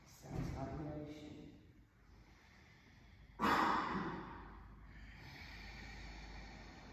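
Slow, audible ujjayi yoga breaths rush in and out with a soft, hissing, ocean-like rasp, one long drawn breath standing out in the middle, close and unaccompanied.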